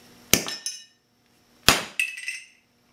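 A hammer strikes the top of a Zippo lighter in two sharp metallic whacks, each followed by a shorter ringing clink, heard close and clear against silence.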